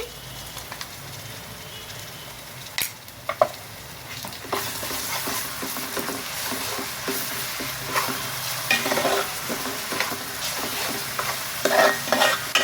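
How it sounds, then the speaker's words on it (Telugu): Ginger garlic paste sizzles steadily as it fries in a pan, punctuated by scraping and clinking of a spoon being stirred, close up and without any talking. "ఈ అల్లం వెల్లుల్లి పేస్ట్ కూడా పచ్చివాసన పోయే వరకు అయితే ఫ్రై చేసుకుందామండి"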